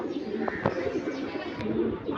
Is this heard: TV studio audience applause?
no